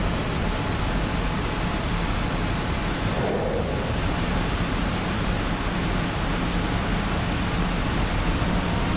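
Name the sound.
jet engine of fighter jet in Flaming Cliffs video game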